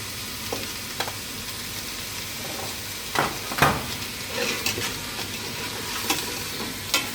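Finely sliced aromatic vegetables and mushroom stems sweat in a little fat for fish stock, a constant soft sizzle broken by scraping stirs and occasional clicks of a spoon against the pan.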